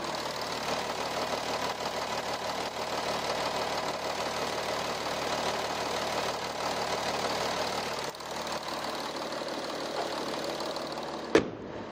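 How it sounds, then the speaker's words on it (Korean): A 3.0 V6 TDI diesel engine in a fourth-generation Audi A6 quattro idles steadily with a constant low rumble and faint knocking clatter, close by, ending with a brief sharp clunk. "이 아우디의 V6 TDI 엔진 이제 바로 엔진 소리 한번 살펴봐 드릴게요"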